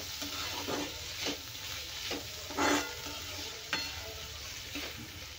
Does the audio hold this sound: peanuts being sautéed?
yes